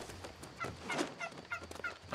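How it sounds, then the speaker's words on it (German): A turkey in the video game New World gobbles in repeated short bursts, fairly faint, with no talking over it. "Ach du blöder Truthahn, bleib doch jetzt hier."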